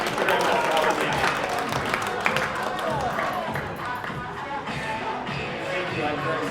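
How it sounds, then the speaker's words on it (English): A live-show studio audience applauds a participant named Sue: dense, steady clapping fills the whole stretch at an even, fairly loud level, with no break or lull. "How about a round of applause for Sue, everybody?"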